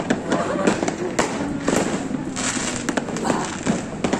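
A rapid crackling string of firecrackers popping nearby on New Year's Eve in Bekasi, sharp bangs crowding together continuously over a faint background.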